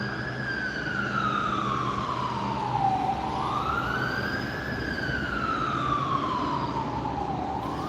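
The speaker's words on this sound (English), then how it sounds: "there's a siren right below me" A wailing emergency siren sweeps slowly up and down in pitch, loud and steady, echoing through a Miami street with traffic rumble beneath.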